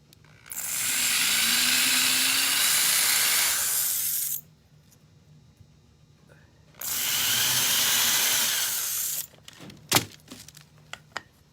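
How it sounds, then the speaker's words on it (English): A power drill bores holes in a wooden tray in two long, steady bursts of high whine separated by a pause, followed by a few short clicks and a sharp knock. "I gotta drill the holes in the tray"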